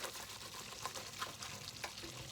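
Salt, pepper and paprika cooking in a pan for mac and cheese, giving a quiet, steady sizzle with a few soft stirring scrapes and clicks, heard up close with no talking.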